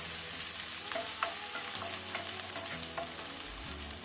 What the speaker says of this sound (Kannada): ಸ್ವಲ್ಪ ಫ್ರೈ ಮಾಡ್ಕೊಳ್ಳಿ. ಫ್ಲೇಮ್ ಹೈಯಲ್ಲಿ ಇಟ್ಕೊಳ್ಳಿ.